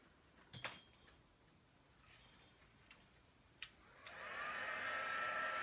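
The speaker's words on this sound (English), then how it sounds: "And I'm going to use my heat tool" A heat tool warms stamped embossing ink. A few faint clicks and taps come first, then the tool switches on with a steady, fairly loud blowing whir that holds to the end.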